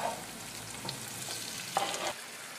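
Garlic and onion sizzle and fry steadily in a pan for spaghetti with fresh cherry tomatoes, with occasional stirring scrapes over a constant crackling hiss.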